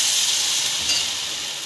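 Dhirde batter hits a hot, oiled griddle and sizzles loudly and close, a bright, steady frying hiss that holds throughout with no talk.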